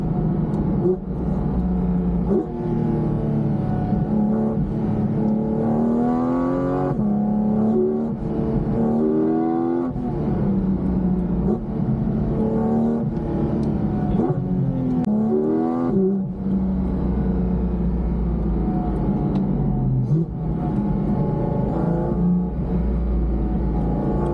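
A Porsche GT4 RS with a naturally aspirated engine accelerates hard from inside the car, its loud, steady engine note rising through the gears in several sweeping pulls with brief dips between shifts.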